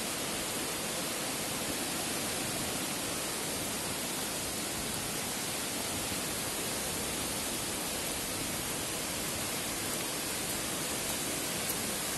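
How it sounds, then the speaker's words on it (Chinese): Aohua waterfall pours down into a blue pool, a dense, unbroken roar of rushing water that stays loud and even from start to finish, with no voices. "前面就奥花瀑布啦"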